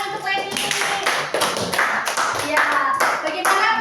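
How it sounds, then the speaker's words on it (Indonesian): Classroom applause, a loud burst of many hands clapping quickly and unevenly, close and sustained, with some voices mixed in under it. "Oke, tepuk tangan untuk Wendy."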